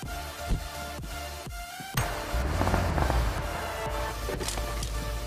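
Gunfire from behind in PUBG Mobile gameplay: sharp cracking shots in a quick burst, then a denser run of bangs and rumbling over a continuous game backdrop.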